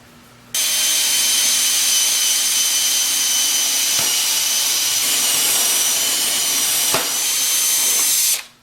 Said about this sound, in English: Now I need to drill through here.